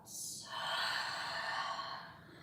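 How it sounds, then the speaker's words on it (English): A single long, breathy exhale, audible and close, flows out slowly for about two seconds during a calm yoga session. "And an audible exhale out"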